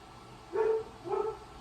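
Two short, muffled dog barks half a second apart, moderately loud over a quiet room background.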